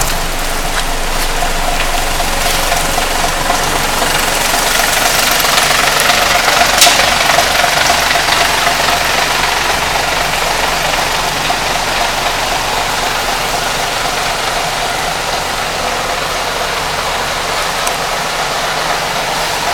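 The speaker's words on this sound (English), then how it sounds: "This is a Scania N113, Northern Counties body with a capacity of 78." A Scania N113 double-decker bus with a Northern Counties body idles close by, a steady, loud diesel rumble with a knocking vibration that holds even throughout.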